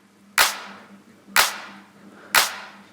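Three evenly spaced, sharp processed clap drum hits in a mix, each a bright snappy transient with a short tail, over a faint steady low hum.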